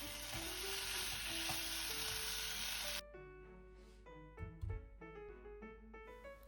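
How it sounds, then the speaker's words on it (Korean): Burdock simmers on low heat in a pan of seasoning while being stirred: a steady soft sizzle for the first half, then quieter bubbling with scattered clinks and scrapes of the utensil against the pan. "우엉이 완전히 익을 때까지 약불로 5분 정도 기다려줍니다. 중간에 양념이 타지 않도록 잘 저어주세요."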